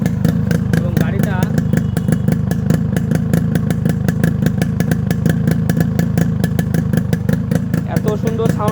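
A modified Yamaha RX 100 motorcycle, started by hand, idles close by with a thick, steady, fast-pulsing two-stroke thrum and small mechanical clatters throughout.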